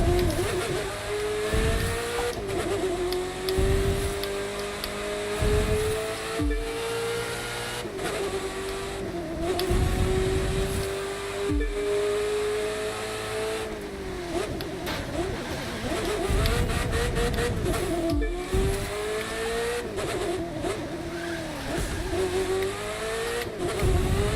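Ferrari race car engine in The Crew 2 racing game, loud and close, revving up through the gears with repeated rising pitch sweeps, sharp drops at shifts and braking, and occasional tire squeal throughout.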